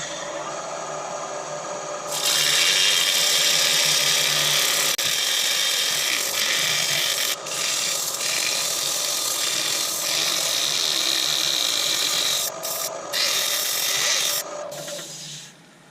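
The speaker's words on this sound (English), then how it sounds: "Let's just do a little bit of sanding on the outside." A wooden fruit bowl spins on a lathe while sandpaper rubs against its outside, making a steady, loud hissing scrape that runs for most of the recording before stopping.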